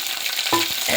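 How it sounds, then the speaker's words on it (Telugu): Tempering spices crackle and splutter in hot oil in a pan while cooking dal: a short, bright, continuous sizzle with small pops. "ఇలా చిటపిటలాడిన తర్వాత ఇవన్నీ వేస్తున్నా."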